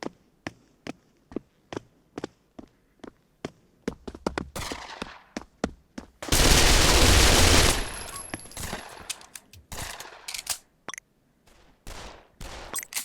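Video game weapons firing through a bass-heavy wearable setup: a steady series of sharp single shots, then a long loud burst of sustained fire, followed by scattered shots and reload clatter.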